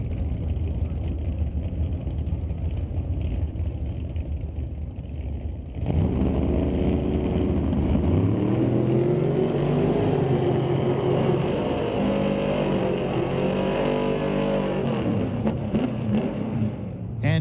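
A 1979 Ford Mustang with a 408 stroker V8 roars at a drag strip, with a loud engine rumble that rises in pitch as it accelerates hard down the track, while a second car can be heard alongside.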